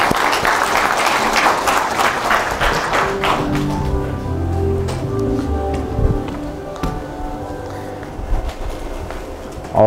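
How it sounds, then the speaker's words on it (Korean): Applause rises from the hall at a party founding convention as a presidential candidate is confirmed, dense clapping for the first few seconds, then thinning into scattered claps under lingering tonal music and murmur. "다시 한번 큰 박수 부탁드립니다"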